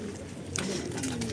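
Racing pigeons cooing at the loft during a 57 km race arrival, a brief close, soft throaty coo under a busy background.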